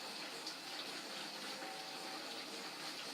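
A pot of water at a rolling boil, a steady close bubbling hiss that runs unbroken from start to finish, with no voices.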